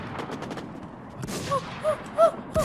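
Gunfire in the online zombie survival game WarZ: a burst of rapid shots near the start, then several separate louder reports later, with faint talk underneath.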